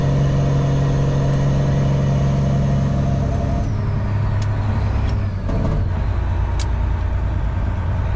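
A semi truck's Jake brake rumbles loudly up close in a sustained, even engine-braking drone, then shifts pitch partway through as the engine slows, with a few brief clicks and squeaks over the top.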